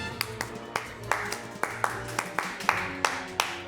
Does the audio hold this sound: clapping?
yes